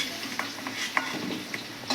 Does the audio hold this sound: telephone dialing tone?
no